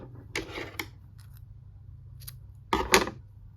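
Scissors snip crochet yarn with a few crisp, close metallic cuts, a double snip early and another pair near the end, in a quiet room.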